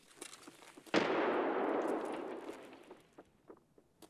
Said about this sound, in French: je décide de balancer une grenade au niveau de la fenêtre de là où il est